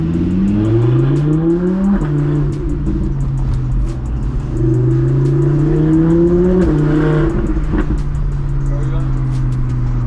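A 1000-horsepower Audi R8 accelerates hard on the road, its engine note rising steadily through the gears with loud, continuous revving up close, broken by brief shifts between pulls.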